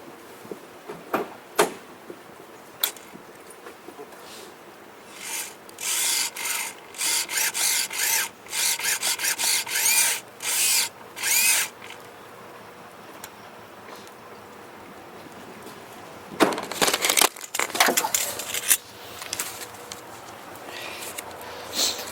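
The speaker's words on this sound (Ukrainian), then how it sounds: "Буду крутити зараз серво." A servo motor in an old Tavria car is turned by hand, giving bursts of whirring, ratcheting mechanical buzz in short repeated runs, with quieter clicks and gaps between.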